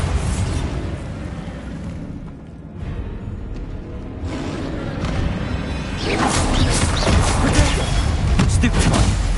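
A Bombarda blasting spell detonates in the Hogwarts Legacy game during a troll fight, a loud booming burst that swells into crackling debris and rumble after a quieter lull, with a voice speaking over the mix.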